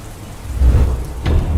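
Heavy rain pours at night with a low rumble of thunder swelling underneath, loud and close throughout, with no voices.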